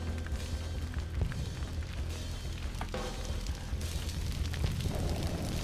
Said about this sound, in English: The whole thing's catching fire.